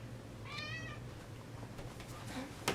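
A domestic cat meows once behind a door, a clear wavering cry near the start, followed by faint scuffling and small knocks in a quiet room.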